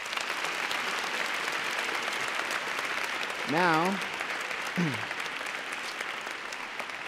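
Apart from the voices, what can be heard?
audience applause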